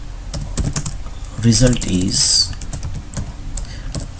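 Keys clatter on a computer keyboard while JavaScript code is typed, with a steady run of light clicks throughout and a voice speaking briefly over the middle.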